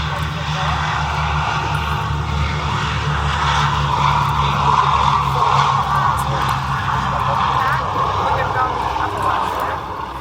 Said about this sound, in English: one of the great favourites of any Duxford Airshow, the Boeing B-17G Flying Fortress